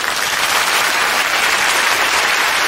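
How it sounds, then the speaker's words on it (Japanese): Thunderous audience applause at Koshiji Fubuki's chanson recital at the Nissay Theatre, a loud, dense, unbroken roar of clapping from a large hall crowd. "割れんばかりの拍手を受けて、"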